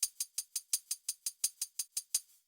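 A crisp electronic hi-hat sample from a beat ticks out thirteen evenly spaced, bright, short hits, about six per second, isolated and fairly quiet.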